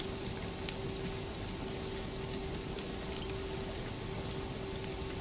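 Steady, dense rain noise fills a flight simulator cockpit on a medevac flight from Big Bear Airport, a constant loud hiss with a sustained engine-like hum underneath, no talk.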